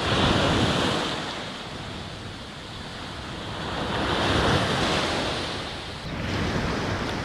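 Calm morning sea washes onto a beach at Jomtien in Pattaya, a steady broadband roar of surf that swells and eases slowly, mixed with wind rumbling on the microphone.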